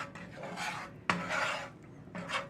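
Red-handled spatula scraping and rasping around the bottom of an old cast iron skillet, a few short strokes with one sharper knock, close and fairly quiet with no voices.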